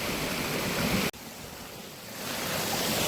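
Water rushes under pressure in a loud, steady broadband roar on a hillside outing during monsoon weather, with one brief dropout partway through and no voices.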